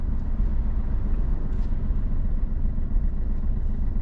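Vehicles pass from behind on a road during a driving lesson, a steady close rumble of engines and tyres continuing without a break, loud and alone with no talking.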